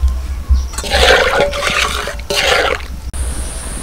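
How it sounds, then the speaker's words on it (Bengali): Spice mixture with turmeric, salt and slit green chillies coming to a boil in a pan, a steady bubbling, gurgling roar with a low rumble, continuous and close. "মশলাটা ফুটতে শুরু করেছে"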